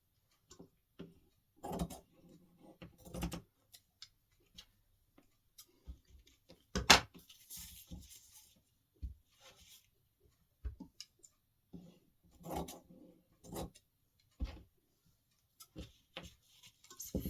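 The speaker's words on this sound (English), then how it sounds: "I thought I'll be fine with just a pair of scissors" Scissors cutting material for an artificial Christmas table arrangement, heard as close, sharp, irregular snips and clicks separated by quiet gaps.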